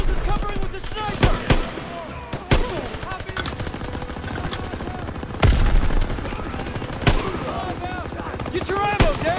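Call of Duty World War II-style battle in Germany with scattered rifle shots and bursts of machine-gun fire, some close and loud, over constant background combat while soldiers shout orders.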